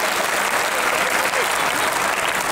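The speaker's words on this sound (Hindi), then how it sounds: "एक बार जरा जोरदार तालियां बजाकर" A comedy poetry gathering bursts into loud, thick applause from a large crowd, an unbroken wash of many clapping hands that holds steady for the whole stretch.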